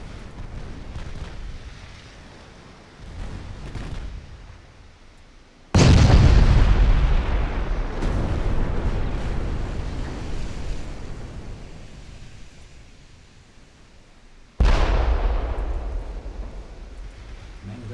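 Warship main gun salvos in the naval strategy game Ultimate Admiral: Dreadnoughts, two loud booming blasts several seconds apart, each with a long rumbling decay, over a low continuous rumble.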